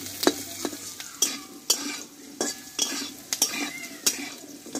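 Potatoes are sautéed in a pan with a spatula, making rhythmic scraping strokes about twice a second over a soft background sizzle, close and moderately loud, with no talking.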